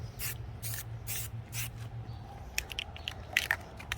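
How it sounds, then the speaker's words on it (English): Several short hissing bursts from a spray paint can coating vases, spaced irregularly over a low steady hum, followed by faint clicks and light scraping. "So I'm just gonna keep spray painting these"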